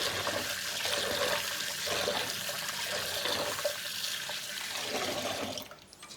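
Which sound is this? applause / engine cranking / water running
water running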